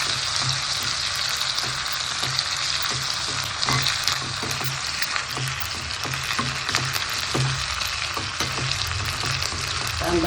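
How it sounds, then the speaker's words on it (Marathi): Chopped onion frying in a pan for kanda pithla, a steady dense sizzle with small crackles and the occasional stir, continuous and close. "व्यवस्थित लालसर रंगावर कांदा परतून घ्यायचा."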